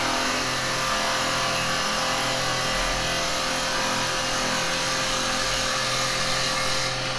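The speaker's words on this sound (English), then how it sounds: "I'm going to drill at that because it's a tiny little hole" Steady high-pitched whine of a drill boring into wood on a running lathe, continuous and loud throughout with no voices.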